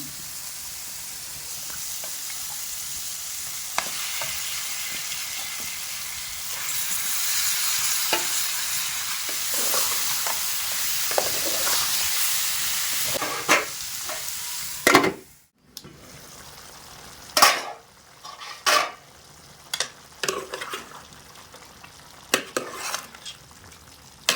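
Chicken curry frying in a pan with turmeric: a steady, close sizzle at first, then a spoon scrapes and clatters against the pan in irregular bursts as the chicken is stirred.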